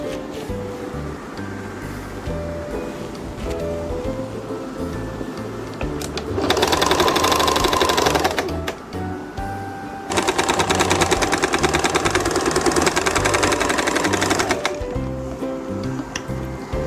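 A sewing machine stitching the side seams of palazzo pants runs in two loud bursts of fast, rapid stitching, separated by a short pause, over a quieter background hum.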